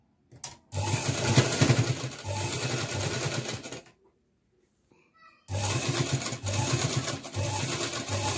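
Electric sewing machine stitching a party-wear frock runs in two steady bursts with a pause of near silence between, a loud close whirring with rhythmic mechanical chatter.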